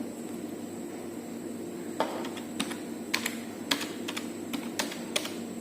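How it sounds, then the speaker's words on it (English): Fingers tapping on a computer keyboard while typing a document in Word, a quiet start followed by irregular bursts of crisp close keystrokes. "we can type something, anything we can type"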